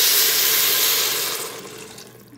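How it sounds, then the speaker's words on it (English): Water poured into a pressure cooker over dry macaroni, a steady broadband rush that begins loud and gradually tapers off over a couple of seconds, close by with no talking. "I've just got water. You just put enough water to cover."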